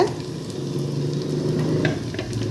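Tomatoes hit frying onions in a pan for a green tomato and okra kalanimandi, giving a steady, moderate crackling sizzle throughout with no talk.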